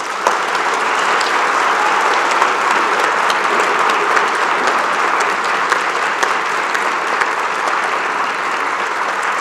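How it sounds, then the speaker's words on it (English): Audience at a fall graduation convocation applauding the faculty, a dense, even burst of many hands clapping that fills the hall without letup. "Graduates, a round of applause."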